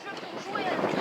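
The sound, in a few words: wind blowing on the microphone in a forest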